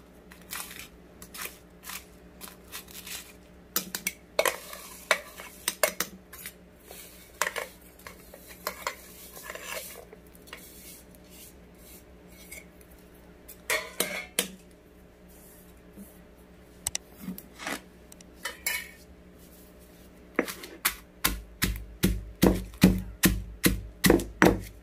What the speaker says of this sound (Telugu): మిరపకాయలు, ఎండుమిరపకాయలు, నువ్వులు దంచేస్తున్నాను